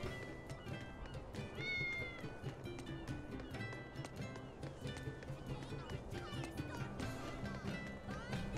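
Cats meowing in the role-playing video game Tales of Berseria, several short mews mixed with game effects, footsteps and background music, with character voices around them.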